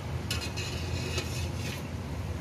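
Masala sizzles softly as it fries in a pan, with a few metallic scrapes and clinks of a spoon stirring against the pan, close and without talking.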